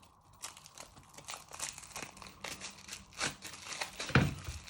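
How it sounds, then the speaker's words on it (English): Crinkly plastic wrapper peeled off a cucumber in a home kitchen, a run of close, uneven crackling and tearing rustles that grow louder toward the end. "Then you peel off the wrapper."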